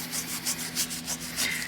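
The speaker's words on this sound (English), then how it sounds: "I even went all the way to just using a straight up steel screwdriver here." A steel screwdriver scrapes a coating off an intake manifold in quick repeated rasping strokes, close and fairly loud.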